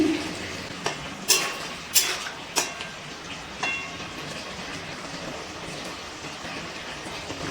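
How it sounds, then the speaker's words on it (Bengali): Mixed vegetables in a pan on a medium gas flame are stirred with a utensil, giving a few sharp scrapes and clinks early on, then a quieter background of sizzling. "এবার একটু নাড়াচাড়া করে নিচ্ছি।"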